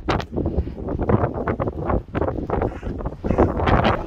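Steady gusty wind buffets the microphone outdoors in rainy Edinburgh, with a dense rushing roar that swells and dips throughout and no voices.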